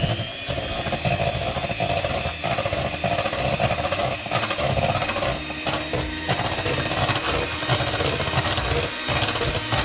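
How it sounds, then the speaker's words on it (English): An electric hand mixer beating keto snickerdoodle dough, a loud continuous motor whir with a rough, rattling texture that holds steady throughout, no talking. "I'm going to use a hand mixer."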